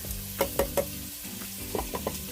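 Canned corn kernels with their juice stirred in a hot pan with garlic and onion, faint sizzling under several quick scraping and clinking stirs close by.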